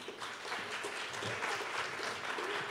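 Steady, moderately quiet applause from an audience at a community pitch gathering in Quebec, a continuous wash of many hands clapping with no speech over it.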